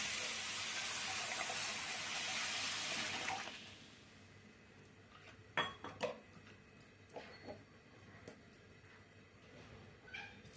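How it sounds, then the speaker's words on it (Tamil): Water pours steadily onto sugar in a pan for syrup, a loud rushing splash for about three seconds, then stops and gives way to scattered clinks of utensils and dishes in a quiet kitchen. "சக்கரை மூணுங்கிற அளவுக்கு தண்ணி போட்டுக்கலாம்"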